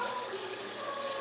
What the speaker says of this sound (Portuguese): Só que antes tem que deixar a água no liquidificador pra lavar